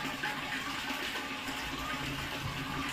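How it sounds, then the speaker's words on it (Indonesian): Water poured or sprayed over smouldering rice husk charcoal, a steady broadband wash of gushing, hissing liquid that stays at an even, moderately loud level throughout with no voices. "Setelah betul-betul kita siram dengan air, maka diamkan selama 12 jam sampai arang sekam ini dingin."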